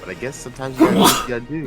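A single sharp sneeze bursts out loudly in the middle of close conversational speech among people commentating a fighting-game match, with talk continuing right before and after it.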